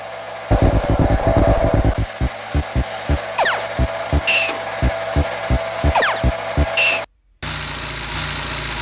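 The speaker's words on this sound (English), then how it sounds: "I was drilling the countersinks." A power tool drilling countersinks works in a rapid burst, then in steady repeated pulses over a mechanical hum, nearby and loud, ending in a sudden cutout.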